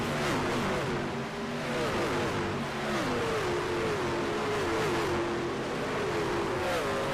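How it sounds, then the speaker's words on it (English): Racing trucks in a truck series race at Phoenix roar past on the track at full power, a continuous loud engine drone with several overlapping revving tones rising and falling as they pass. "Oh, you gotta love the sound of those trucks, the thunder, the speed, all coming at you at full power."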